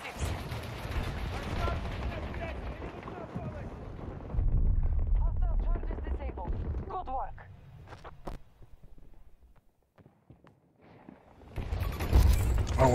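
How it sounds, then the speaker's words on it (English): Battlefield 2042 combat erupts with a loud explosion rumble and bursts of gunfire that dominate for several seconds, then fade to quieter scattered shots, with players talking over it. "I saw the explosion as I was spawning in"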